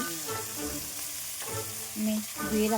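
Onions and chillies sizzle as they fry in a pan, a steady crackling hiss broken by stirring scrapes. A voice speaks intermittently over the cooking.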